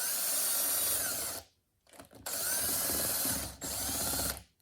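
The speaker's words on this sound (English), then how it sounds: "which I'm just going to spin in quickly with the drill" A cordless power drill spins bolts into a VW Vanagon 010 automatic transmission case in two long, loud whirring runs separated by a short pause, followed by a brief final burst.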